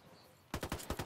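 Gunshots in a Ghost Recon Wildlands Ghost War match, a video game: quiet ambience, then a rapid burst of about seven sharp, loud shots in quick succession.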